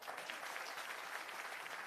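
Audience applause at a one-day Jan Suraaj workshop conference held at the Bihar Satyagraha Ashram, a steady dense wash of hand clapping filling the room, fairly distant and even throughout, with no voices over it.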